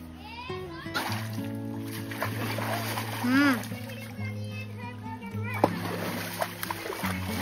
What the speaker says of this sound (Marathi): ए पाण्यात शेपटीनं आम्हाला अंघोळ.